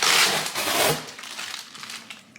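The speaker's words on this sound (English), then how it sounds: "I much prefer just ripping the tape off myself" Packing tape is ripped off a cardboard box, making a continuous loud crinkling tear that eases off over a couple of seconds, close and alone.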